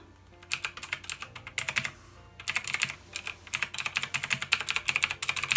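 Rapid clacking keystrokes on a new mechanical keyboard, close and crisp, coming in dense bursts with a short pause partway through and no voices.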